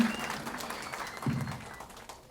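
Audience applause welcoming a film's cameraman onto the stage at a movie event, a soft, distant patter of clapping that builds briefly and fades within a couple of seconds.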